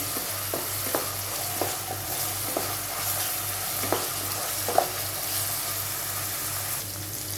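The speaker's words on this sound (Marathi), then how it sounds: "ती पण आलं लसूणच्या पेस्टचा कच्चा वास जाईपर्यंत आपल्याला हे परतून घ्यायचं आहे छानपैकी" Ginger-garlic paste sizzles in hot oil for a Malvani-style stuffed brinjal masala, a steady fry hiss broken by repeated scrapes and clicks of a spoon stirring the pan.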